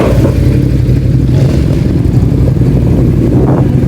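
A motorcycle engine rumbles loudly up close, revving briefly with a low, throaty growl over steady idling, no voices.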